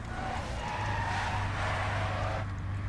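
Race car in a racing video game at Interlagos, likely a Williams: a sustained engine note with a shifting higher whine over a steady low hum, cutting off sharply near the end.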